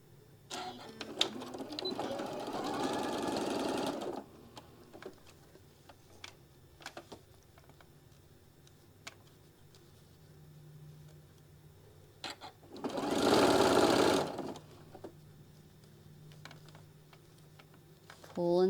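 A domestic sewing machine stitches and back-tacks fabric for a small zippered puff pouch, with two loud sustained bursts of running stitches separated by quiet handling clicks and taps.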